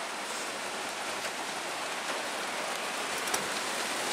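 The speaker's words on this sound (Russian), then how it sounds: "Дождик пошел." Rain falls on a roof in a soft, even hiss with scattered faint drop taps, steady and fairly quiet throughout.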